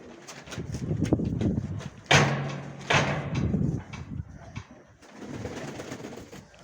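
Pigeons of the Mykolaiv breed coo in low, throaty murmurs nearby, mixed with scuffling and a couple of bumps against a steady background.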